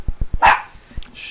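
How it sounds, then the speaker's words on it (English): A few quick dog barks in a row from a TV, loud and close, followed by a short muffled yelp and a brief rustle, slightly boxy as if from a speaker. "yeah, that's a dog on TV."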